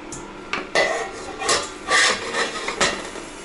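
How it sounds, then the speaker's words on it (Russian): Small metallic scrapes and clicks from working a tiny screw loose on a Bravo smoker, several short, close taps and rasps in an uneven rhythm. "вот здесь откручиваем винтик"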